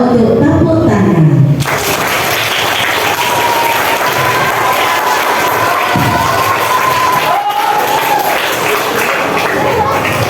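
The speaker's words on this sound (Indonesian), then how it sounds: "anak-anak untuk tepuk tangan" A school crowd of children claps and cheers loudly after a speaker from a child protection commission is introduced, a dense steady wash of applause with shouts that runs throughout, brief voices at the start.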